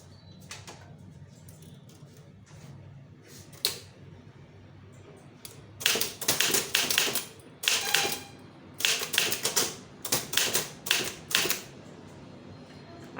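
Bursts of computer keyboard typing while a Tamil official letter is typed, rapid clustered clicks and key taps at close range with short pauses between runs, no speech.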